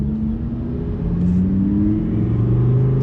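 Lamborghini Gallardo Superleggera engine pulling hard in first gear without shifting, a loud, close, steady rising growl with climbing pitch over three seconds.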